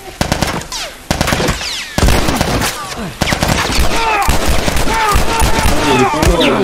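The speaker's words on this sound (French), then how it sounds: "Ah, il me tire dessus." Rapid automatic gunfire in a shooter video game, with repeated bursts and single shots aimed at the player, loud and close throughout, with busy overlapping battle sounds and no speech.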